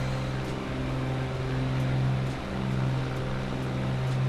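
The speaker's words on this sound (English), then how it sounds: "Is that engine sound a bit too loud, I think, isn't it?" A loud, even engine drone comes from the Cessna 414AW Chancellor in Microsoft Flight Simulator 2020, its low buzzing harmonics swelling slightly midway before settling back, close and uninterrupted.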